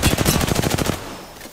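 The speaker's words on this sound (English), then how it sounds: "I am taking fire, friends." A rapid burst of automatic gunfire in Apex Legends, about ten sharp shots in quick rhythm, loud and close, then cut off into a short fading tail, with no voices.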